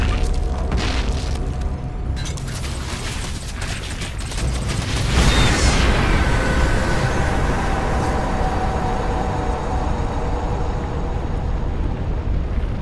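A deep rumbling explosion in StarCraft II: Wings of Liberty, in the campaign mission Belly of the Beast, builds into a loud sustained roar with rolling debris, continuous and dense.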